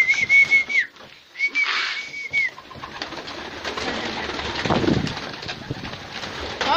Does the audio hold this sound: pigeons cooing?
yes